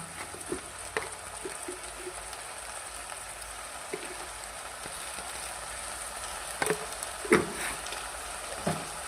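Brinjal curry (badanekayi gojju) being stirred in a pan after salt goes in, giving a faint continuous sizzle with scattered soft scrapes and clinks, a few louder knocks near the end.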